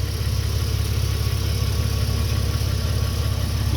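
A car with a looped MBRP catback exhaust idles, its engine giving a steady, close, rhythmic low rumble with a faint pulsing throb and no talk.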